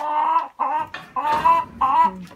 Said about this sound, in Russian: Курочки